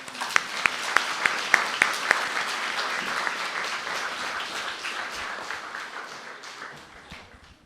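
An audience at a spiritual lecture on the Kena Upanishad with a swami begins clapping with a few sharp, separate claps, then swells into steady, full applause that slowly fades out.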